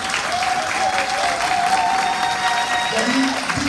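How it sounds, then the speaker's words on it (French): Applause from the audience at an annual association gala evening as the association's president makes her entrance, steady clapping lasting throughout at close range with crowd murmur underneath. "Je vous demande d'applaudir s'il vous plaît."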